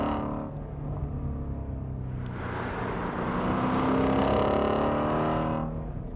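Shelby Mustang GT350 engine pulling hard in second gear on a back road, a loud, steady close-up roar that rises in pitch as it accelerates, with no talk over it.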